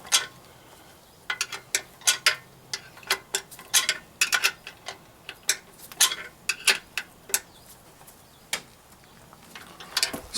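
Ratchet wrench tightening nuts on an outboard jet pump, giving irregular sharp clicks in short runs with pauses between them.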